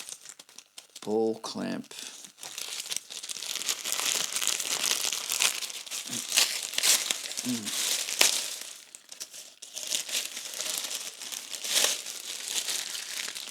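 Plastic packaging on a budget camera ball clamp crinkles and rustles close up in bursts throughout, with a person talking over it at moments.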